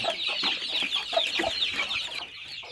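Country chickens on a poultry farm in Madurai, including chicks around forty days old, cluck continuously as a flock, with overlapping nearby calls and repeated short clucks.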